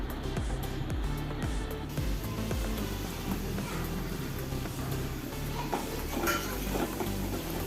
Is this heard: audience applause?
no